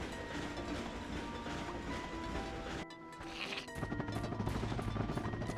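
A train rolls along in the Ratchet & Clank video game, a steady mechanical rumble with faint rail clatter that drops out briefly near the middle and then returns louder, with no talk over it.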